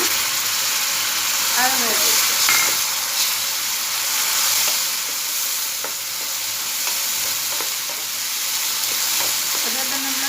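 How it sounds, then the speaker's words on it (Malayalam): Tomato juice sizzles as it is stirred into sautéed onions in a hot pan, with a steady frying hiss and scraping stirs throughout and a person talking over it. "ഇനി ഇതിലേക്ക് നമുക്ക് ഒരു തക്കാളി ഞാൻ ജ്യൂസാക്കി എടുത്താണ്"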